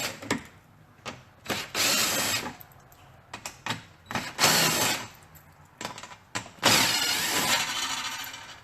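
Cordless drill or impact driver backing screws out of the underside of a Camaro during a diffuser and MBRP exhaust install, several short bursts then longer whirring runs, close and fairly loud with quiet gaps between.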